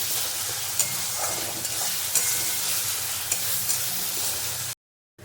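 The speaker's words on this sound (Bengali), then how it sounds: "আঁচটা বাড়িয়ে দিয়ে আরও সুন্দর করে কষিয়ে নেব।" A Bengali-style blue crab masala sizzles steadily in hot oil while a spoon stirs and scrapes it with occasional clicks. The sizzling is close and continuous, then cuts off abruptly near the end.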